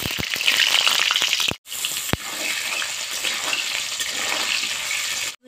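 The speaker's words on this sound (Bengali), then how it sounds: "এবারে কেটে রাখা আলু ভেজে নেব।" Cut potatoes frying in oil in a wok, giving a steady loud sizzling hiss. Two short pauses and a few sharp clicks break it up. No voices.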